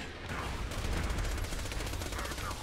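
Rapid submachine gun fire from the Bitch SMG in the video game Borderlands 2, a dense, continuous stream of shots at steady volume, with other game sounds mixed underneath.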